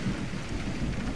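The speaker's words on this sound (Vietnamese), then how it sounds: "Trời vẫn đổ mưa nặng hạt." Heavy rain pours steadily with low thunder rumbling underneath, a dense continuous storm wash behind a Vietnamese ghost story, with no speech.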